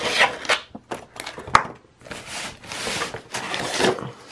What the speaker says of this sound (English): we're going to go ahead and sand it down with an orbital sander